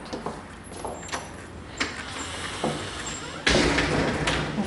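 An apartment door opens with a brief creak and a click, then a louder broad rush of movement near the end, heard close with no talk.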